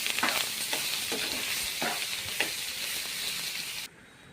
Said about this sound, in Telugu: సొరకాయ ముక్కలు బాగా కలిపెట్టుకొని కొంచెం మగ్గనివ్వాలండి